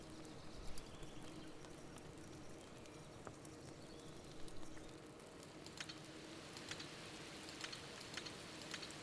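Rain falls in the video game Viking Frontiers, a quiet, steady patter with scattered sharper drip-like ticks over a low background hum, faint and without talk.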